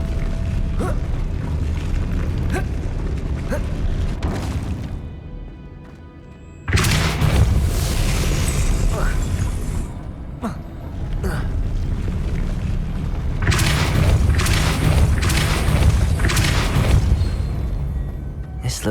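Depulso spell cast in Hogwarts Legacy, a loud, dense burst of magical rumbling and crackling with booming impacts, cutting out briefly before surging again and continuing in heavy waves.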